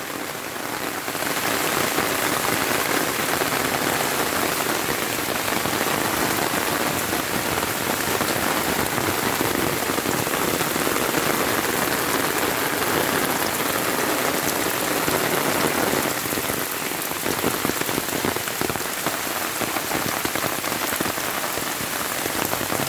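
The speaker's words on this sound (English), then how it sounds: "Beautiful rain falling in Jamaica, guys." Steady, heavy rain pours down continuously in the Jamaican countryside, a dense hiss of drops striking surfaces with no voices, loud and close throughout.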